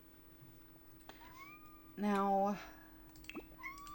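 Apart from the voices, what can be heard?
cat meowing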